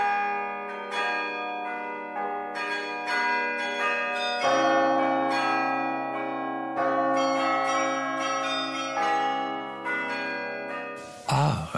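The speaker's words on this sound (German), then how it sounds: "Und sogar eine mit Glockenläuten." Bell-like chimes ring through a French chanson, repeated tones over sustained music for the whole stretch, ending in a brief noisy burst.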